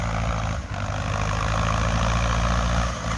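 A Ford tractor ploughing a rice paddy runs with a loud, steady low engine drone, close and continuous for the whole stretch, with no voices.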